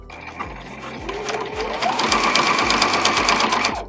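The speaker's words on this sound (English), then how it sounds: "we're going to take it to the machine and stitch just the outside of the rectangle all the way" A sewing machine runs continuously, its needle clattering in a fast, even rhythm as it stitches around a rectangle of pinned fabric for a zipper pouch. The sound is close and steady, with no talk.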